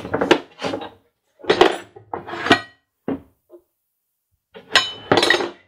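A Volvo-specific locking tool set case is opened, with several short bursts of metal tools clinking and rattling inside, close and fairly loud, separated by brief pauses.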